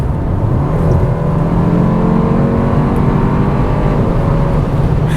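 Kia K4 GT-Line with a 1.6-liter turbo engine, a steady, close drone of engine and road noise at roughly constant revs with no talk.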